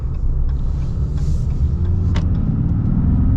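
A 2023 Ram HD pickup pulls away from a green light, its engine giving a loud, steady low rumble with a faint rising tone as it gains speed, and no voices are heard.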